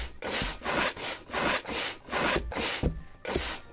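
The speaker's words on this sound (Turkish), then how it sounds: "Hemen bir temizliğe başlayalım." Scrubbing while cleaning in Internet Cafe Simulator, a video game: rhythmic back-and-forth rubbing strokes, about eight in a row, loud and close with no talk.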